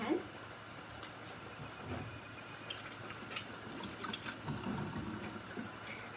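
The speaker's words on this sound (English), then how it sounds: "I just wash my hands." Tap water runs steadily into a sink as hands are washed beneath it, a soft continuous wash with faint splashing changes, fairly quiet and close.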